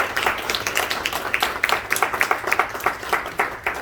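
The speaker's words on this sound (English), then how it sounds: "Could everybody give a round of applause for Dr. Nash?" Audience applauding a nurse anesthetist speaker, a close crowd of hands clapping in a lively, continuous burst with individual sharp claps standing out through the rapid patter.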